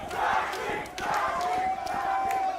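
A crowd in an esports arena at a Valorant playoff match roars and yells in two loud surges, with a caster's voice running over the noise.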